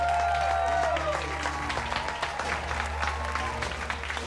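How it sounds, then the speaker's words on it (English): Audience applause with scattered claps and cheering, mixed with background music and a few voices underneath. "Give yourselves a round of applause."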